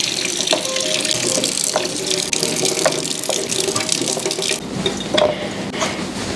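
Tap water runs steadily into a sink as food is rinsed under it, a continuous close splashing flow with brief clatters and handling knocks partway through.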